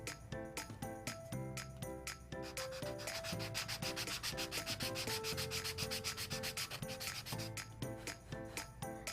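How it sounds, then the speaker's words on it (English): A handheld sanding block works over the corners and edges of a wooden ring box in steady back-and-forth rubbing strokes, close and continuous, with a bright harmonic music bed running loudly underneath. "Just sanding the four corners and the edges."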